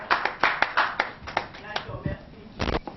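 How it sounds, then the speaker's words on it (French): Audience applause at an official launch presentation in a French venue: a burst of claps and hand taps over about three seconds, moderately loud, with voices mixed in. "Est-ce qu'on peut acclamer s'il vous plaît?"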